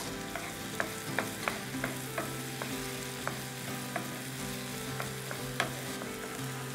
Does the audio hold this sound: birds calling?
no